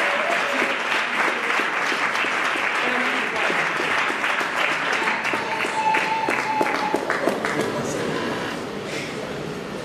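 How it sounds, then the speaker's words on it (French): An audience at a church music event applauding, with sustained, dense clapping from a crowd that continues steadily throughout, and voices mixed in beneath it. "On applaudit encore le temps qu'elle arrive"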